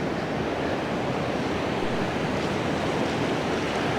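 Strong wind roars over crashing sea waves the day before Cyclone Montha, a continuous, loud wash of noise with no voices.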